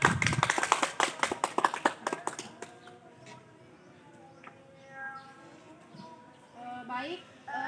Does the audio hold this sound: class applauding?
yes